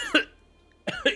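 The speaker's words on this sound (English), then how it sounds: "that was a hard hard cough" Two hard, sharp coughs sound close to the microphone, separated by a brief silent gap.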